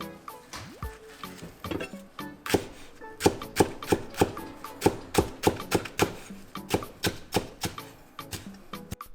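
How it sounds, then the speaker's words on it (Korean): A knife chops green onion (daepa) on a cutting board in a steady run of crisp, close knocks that keep a regular rhythm, and nobody talks. "대파를 통대파가 아닌 반으로 잘라서 준비해 줄게요"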